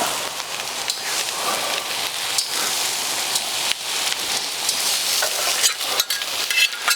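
Beer brats with peppers and onions sizzle steadily on a grill, a loud, continuous crackling hiss with occasional sharper pops and scraping.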